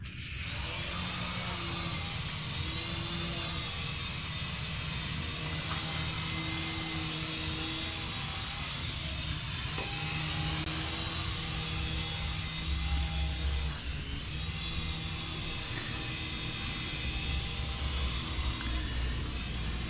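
A Syma S107G toy remote control helicopter flies close by indoors, its small motor and rotors giving a constant high-pitched buzzing whine that stays steady and loud for the whole stretch.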